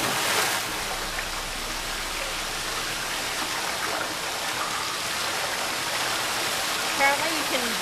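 Water churns and splashes steadily as a character swims in The Witcher 3, a dense, continuous wash of sloshing noise close up that holds level from start to finish.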